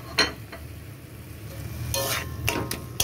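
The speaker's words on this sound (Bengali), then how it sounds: "এবার মাংসটাকেও মশলার সাথে ভালো করে কষিয়ে নেব।" Pieces of meat sizzle in spiced oil in a pan while being stirred, with a few sharp scrapes of the spoon against the pan rising above a steady, close frying hiss.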